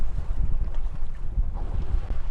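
Strong wind buffets a small crabbing boat on open water, producing a loud, rumbling gust noise against the microphone with gentle wave wash underneath and no speech.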